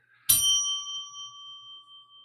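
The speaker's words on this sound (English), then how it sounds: "Stop ringing the doorbell." A single doorbell chime rings out sharply once, its clear bright tone ringing on and decaying slowly into silence.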